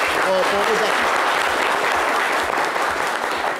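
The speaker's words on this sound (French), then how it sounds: "Applaudissez pour les artistes." A crowd gives loud, sustained applause for the musical guest artists, a thick continuous wash of clapping with a brief voice or whistle rising at the start.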